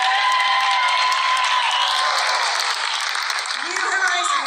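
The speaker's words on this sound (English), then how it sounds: "this is your moment to clap and cheer for your school" A school showcase audience claps and cheers for primary school choirs in a dense, continuous burst of applause, while a voice speaks over the noise.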